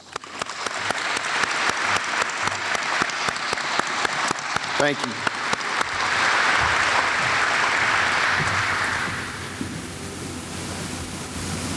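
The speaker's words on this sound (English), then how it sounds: "one last round of applause for our honored guests" An audience gives a final round of applause for honored guests at a military Medal of Honor ceremony on an air base. Sharp, close claps build into a thick, loud swell, then ease into a quieter ongoing patter, and a voice speaks briefly near the start.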